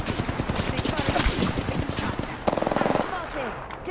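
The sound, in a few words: gunfire in a video game battle royale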